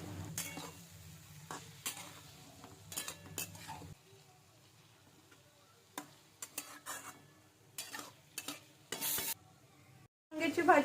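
Eggplant curry with masala cooking in a pan, with repeated scraping and stirring strokes and clinks of a utensil against the pan over a faint, steady simmer, then a brief louder burst of sizzling near the end.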